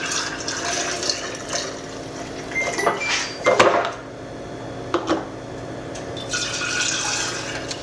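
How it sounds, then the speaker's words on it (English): Homemade chicken bone broth poured into jars in a kitchen, a gentle liquid stream with a few sharper glassy clinks and splashes, near and moderately loud, with no talking. "So I'm just gonna pour about that much in each jar."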